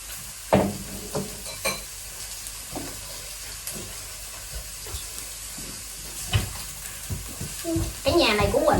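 Pork belly and okra grilling at a home meal, a soft hiss and sizzle running under conversational voices, with scattered clinks and handling taps.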